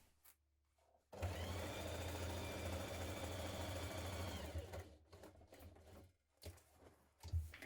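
A sewing machine bastes around the edges of a tote bag, running in one steady, fast-stitching burst of about three and a half seconds, then stopping and giving way to quiet handling noises.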